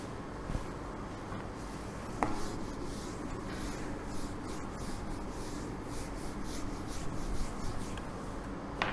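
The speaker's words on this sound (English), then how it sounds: "now I am going to write a sentence." Pen writing a sentence by hand on paper on a board, continuous scratchy rubbing strokes with small ticks, steady and close for the whole stretch.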